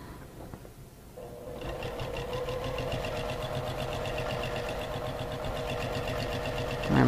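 A sewing machine quilts straight lines in one continuous, steady, close run that carries on nearly the whole time after a brief quieter start.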